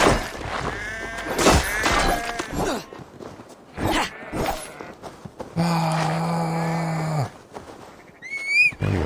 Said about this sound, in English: What the hell's all these sheep?